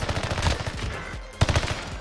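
An RA-225 submachine gun fires in Warzone: quick rattling bursts of rapid shots, a brief pause, then another sharp burst, loud and close with no talking.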